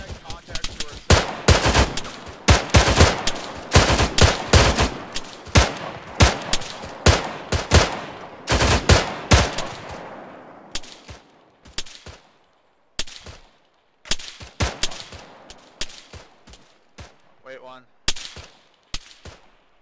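Heavy bursts of rifle and machine-gun fire in the military shooter Arma 3 during an airfield defense, sharp close cracks coming in rapid strings and single shots, with brief lulls between volleys and occasional voices over radio.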